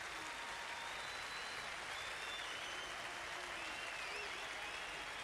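Polite applause from fielders during a 1989-90 Australia versus Pakistan Test cricket match, marking a batsman's century; a steady, thin patter of clapping heard at a distance, continuing evenly throughout with no voices over it.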